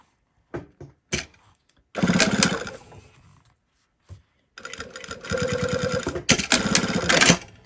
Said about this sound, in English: I just wanted to sew a little bit.